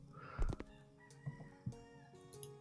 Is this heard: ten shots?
no